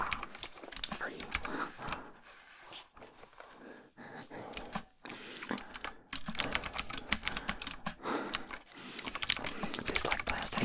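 Fingers type on a computer keyboard for ASMR, close and crisp bursts of clicky keystrokes broken by short pauses, quiet and intimate, with the occasional soft rattle.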